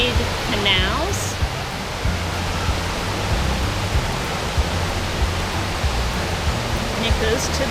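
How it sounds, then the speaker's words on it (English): Golling Waterfall in Salzburg, Austria roars with a steady, loud wash of rushing water close by, and brief voices come through faintly under the torrent. "Look at this waterfall."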